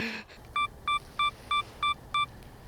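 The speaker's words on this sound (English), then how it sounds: "2-second timer on the tripod" A camera self-timer on a tripod, used for night photography, gives six short, evenly spaced electronic beeps. They are clear against quiet background hiss.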